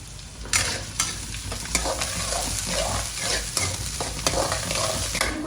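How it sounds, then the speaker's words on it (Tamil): Garlic and curry leaves sauté in oil for a crab pepper masala, producing a continuous loud sizzle broken by repeated spatula scrapes and stirring clacks, with no talking. "அதையும் சேர்த்து நம்ம வதக்கிக்குவோம் இப்போ இதில் ஒரு கொத்து கருவேப்பிலை"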